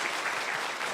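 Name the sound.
audience applause at a book concert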